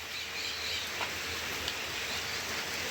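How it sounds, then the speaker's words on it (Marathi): Steady soft hiss of light drizzle falling under dark monsoon clouds in a village, continuous and even, with a faint bird chirp or two in the background. "अजूनही थोडंसं झिमझिम चालतं आहे आवाज येत"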